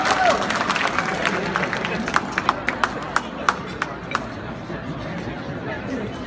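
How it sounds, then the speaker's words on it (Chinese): An audience at a 2017 Shandong hometown association New Year gala applauds, first a dense wash of clapping, then a few sharper scattered claps, under steady crowd chatter and talking. "热烈的鼓掌，谢谢他们"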